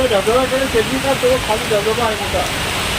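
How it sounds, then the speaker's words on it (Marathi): Heavy monsoon rain on a hillside stairway near Bhushi Dam, a steady loud wash of noise running under a person talking throughout. "जोरदार पाऊस लागला आहे"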